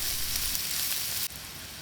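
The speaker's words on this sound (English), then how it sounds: "In a pan, put a half of cup of oil and 2 tablespoons of ghee. Then add 2 large chopped onions." Chopped onions hit hot oil and ghee in a pan, giving a steady, loud, close sizzle that drops off abruptly near the end and then carries on a little quieter.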